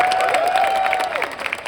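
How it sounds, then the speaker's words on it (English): An audience applauds for Danny at the UK Games Expo during a Star Wars Unlimited announcement, with steady clapping throughout and a sustained tone gliding beneath it. "Can we get a round of applause for Danny, everyone?"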